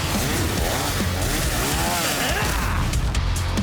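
An animated chainsaw engine in an anime fight scene roars continuously at full throttle, loud and close, its pitch wavering as it revs.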